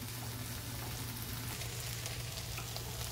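Vegetables and tomato sizzle as they fry for a catfish soup, a dense continuous crackle heard up close with no voices.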